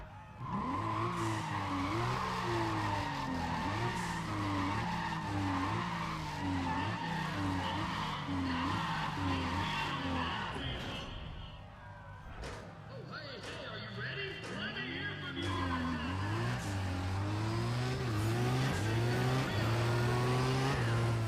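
Alpha 12 GTR race car in Need For Speed: ProStreet drones loudly through repeated rising rev sweeps and gear shifts, with tire skids and a brief dip midway before the engine climbs again; a voice talks over it.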